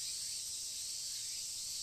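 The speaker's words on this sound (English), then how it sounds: "And the keening of cicadas eats at me." Cicadas keening in a summer scene from the Tsukihime visual novel game, a dense continuous high-pitched drone that holds steady and fairly faint throughout, with no speech.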